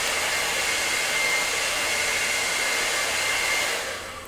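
A hair dryer blows steadily and loudly over acrylic paint, a constant close airy roar that tapers off as it switches off at the end.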